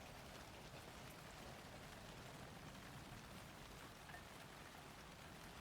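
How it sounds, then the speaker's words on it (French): Steady rain falls in the video game Alan Wake 2, a dense, continuous hiss of drops spattering on surfaces, close and even throughout with no talking. "Et là, il pleut."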